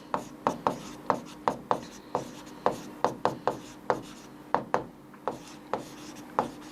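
A pen or pencil scratches on paper while a prime factorization is written out, giving a quick series of short, crisp strokes in an uneven rhythm. The strokes are close and fairly soft, with no other sound.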